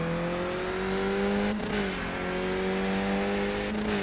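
Formula 3 race cars from the iRacing simulator drone close by, engines holding a steady high pitch with brief gear-shift dips, loud and continuous with no voices over them.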